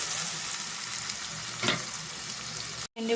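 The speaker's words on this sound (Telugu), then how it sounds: "ఉల్లిపాయ పచ్చిమిర్చి ఇవి బాగా ఫ్రై అవ్వాలి ఫ్రెండ్స్" Onions and green chillies fry in hot oil with a continuous close sizzle and a brief stirring scrape midway, then a sudden short cutoff before the sizzle resumes.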